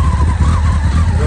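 Honda X11 motorcycle with 28,000 km on it, engine running at a steady idle with a low, throbbing rumble, loud and close, alone without talk.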